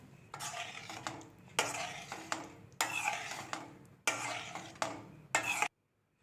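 Mashed potato is stirred into poori masala in a pan with a metal spoon, making about five loud scraping sweeps in a steady rhythm, close up and with no talk, then silence.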